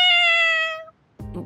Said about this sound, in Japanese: 何その猫。